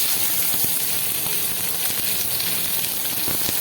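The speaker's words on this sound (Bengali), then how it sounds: "এবারে পেঁয়াজটাকে একটু ভেজে নেবো" Sliced onion frying in hot mustard oil with panch phoron over a medium flame, a loud, close, continuous sizzle with small crackles throughout.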